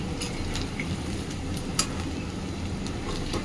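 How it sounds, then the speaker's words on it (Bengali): Chicken pakoras fry in oil in a wok, giving a steady, close hiss of sizzling with a few faint clicks on top and no talking. "চলো এই যে কড়াইতে দিয়ে দিয়েছি, ভালো করে লাল লাল করে এবার ভেজে নিই।"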